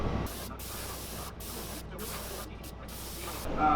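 An airbrush sprays raw sienna paint through a stencil onto a fishing lure, a close steady hiss broken by several short pauses as the trigger is released and pressed again.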